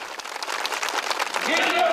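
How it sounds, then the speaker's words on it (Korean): Enthusiastic applause from participants at a conference hall gathering, a dense wash of clapping that swells toward the end, running under a voice speaking over it. "편지가 참가자들의 열광적인 박수 속에 채택됐습니다"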